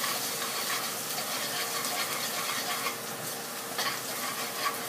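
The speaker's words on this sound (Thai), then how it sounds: "ใส่กระเทียมเกี่ยวกระดักกระชี้ลงไปผัดก่อนนะคะใส่น้ำมันลงไปนะคะ" Garlic, coriander root and shallots stir-fry in hot oil for a Thai tamarind chili paste with pork, giving a steady loud sizzle with faint scraping of stirring throughout and no voices.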